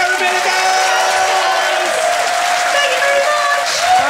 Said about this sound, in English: Ladies and gentlemen, give a massive round of applause.